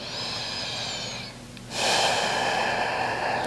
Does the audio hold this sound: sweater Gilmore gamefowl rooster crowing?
no